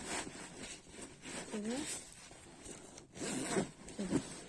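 A clothing zipper is pulled closed during an at-home self-care routine, several short scraping zips in bursts with soft rustling, while someone talks over the sound.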